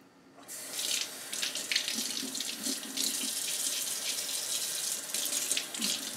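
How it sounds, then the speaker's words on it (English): A kitchen tap runs steadily, water splashing as seeds are rinsed off pickled pepper pieces under the stream, a continuous close hiss from start to finish after a brief silent moment. "Wash the seeds off, that's all I'm doing."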